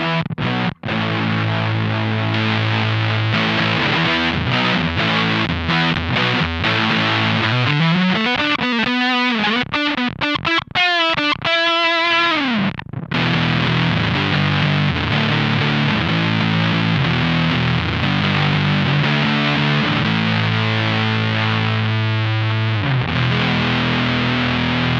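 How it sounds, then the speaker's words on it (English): Electric guitar through a RonSound Hairpie Classic 75 fuzz pedal with the mids boost engaged, thick saturated chords and riffs played loudly and continuously, with a sliding pitch sweep and a brief break midway. "So that is the RonSound Hairpie Classic. It's the Hairpie Classic 75 specifically with the mids boost option."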